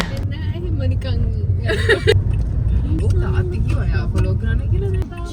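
A car drives along a road to a church, with low engine and road rumble running under close, continuous conversation and a brief rattling burst midway.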